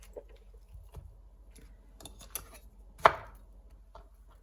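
Plantains being sliced on the diagonal with a knife, producing soft, quiet cuts spread through the stretch with one sharper knock on the board near the three-second mark, close and without talk.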